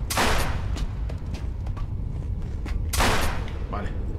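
Two sharp pistol shots ring out in the Silent Hill Homecoming video game, the first near the start and the second about three seconds later, with quieter thumps and game sounds between them.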